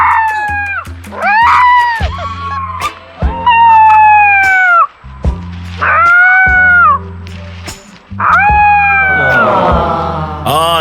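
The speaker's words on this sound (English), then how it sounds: "It's a supercut of a 4-week-old wolf pup in the Northwoods of Minnesota learning how to howl." A four-week-old wolf pup in the Minnesota Northwoods attempts to howl, giving a series of short, wavering, squeaky rising and falling yelps, close and loud, broken by brief pauses, with a low steady hum beneath.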